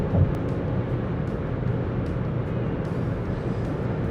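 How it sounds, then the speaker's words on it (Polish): Constant rushing wind noise and low road rumble inside a 2026 Kia Sportage 1.6 T-GDI cruising at 140 km/h, steady throughout with no talking. "przy 140 zaczynają się już szumy rzeczywiście dookoła auta, już nie tylko na lusterkach"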